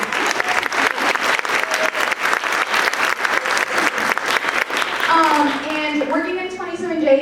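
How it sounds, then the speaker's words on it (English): Audience at a middle school honor band concert applauds steadily for several seconds, a dense, even clapping that fills the room before a voice begins speaking over the tail end. "let's clap it"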